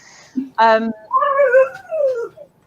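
A pet dog whines nearby during an interview setting, giving a short rising yelp followed by drawn-out, wavering whimpers over about two seconds, loud and clear with no one talking over it.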